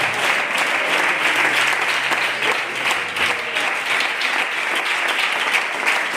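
A church congregation bursts into strong, sustained applause at the close of a sermon, a thick wash of many hands clapping at even loudness throughout, with no voices rising above it.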